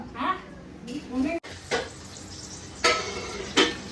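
Aloo dum potato curry cooking in a pan, with scraping stirs, clinks of a spoon on metal and a faint sizzle, several sharp knocks spaced through the stretch, and a voice talking in the background.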